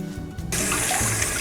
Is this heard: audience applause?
no